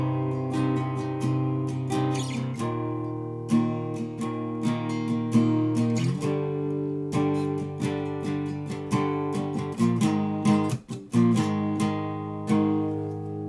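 Electric guitar plays a riff, a sequence of clearly picked, sustained notes and chord changes with a steady rhythm, played solo without any talking.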